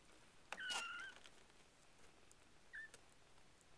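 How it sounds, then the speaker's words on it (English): Two brief, faint high-pitched kitten mews sound a couple of seconds apart over a quiet background. "You hear a couple on the background that are crying too."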